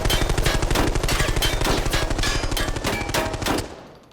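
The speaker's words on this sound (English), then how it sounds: "Hold left click until you shoot the whole mag." A full magazine empties on automatic in Arena Breakout Infinite, a loud rapid unbroken stream of close gunshots lasting about three and a half seconds before cutting off into a brief fading echo.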